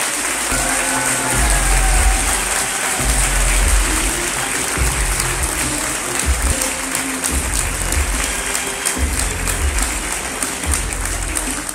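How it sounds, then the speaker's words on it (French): Thunderous applause from a large crowd at a comic convention in Paris for a comics legend, a loud, dense, sustained roar of clapping that holds steady throughout and fills the hall without any speech. "Un tonnerre d'applaudissements pour Roy Thomas."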